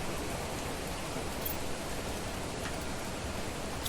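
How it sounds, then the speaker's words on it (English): Rain falls steadily in the survival game Planet Crafter, a continuous even hiss of heavy rainfall with no pauses and no other sounds on top. "Wow, it's raining a lot these days."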